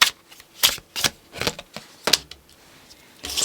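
Tarot cards are shuffled in several quick, crisp riffling bursts, close and fairly loud with short pauses between, no talking.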